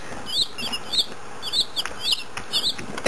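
Baby chicks in a brooder give repeated high, thin peeping chirps in quick overlapping bursts, close and clear against a soft background hiss.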